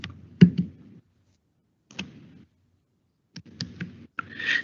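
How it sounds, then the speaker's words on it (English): Short bursts of computer keyboard typing while entering commands in a Robot OS terminal, a few quick clustered key clicks separated by pauses, close and fairly quiet with no talk. "I'm just typing turtle, and then if I type S, it will auto complete now"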